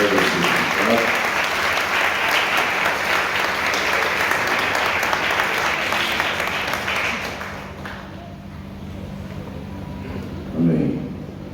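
A church congregation applauds during a harvest festival celebration service at an Assembleia de Deus church. The loud, dense clapping is sustained for several seconds, then fades, and voices speak over and after it.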